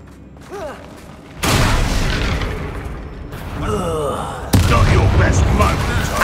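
Confringo and Bombarda spell blasts go off in a mine battle in Hogwarts Legacy, with sudden loud bursts around one and a half and four and a half seconds, each followed by rumbling noise and creaking effects.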